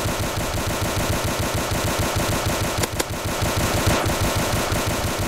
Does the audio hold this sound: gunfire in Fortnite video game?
yes